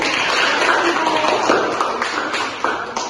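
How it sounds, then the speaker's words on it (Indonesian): Applause in a classroom during a micro-teaching lesson on advertising, slogans and posters: a dense, steady patter of many hands clapping together, fairly close and continuous, with no talking. "Tepuk tangan untuk media."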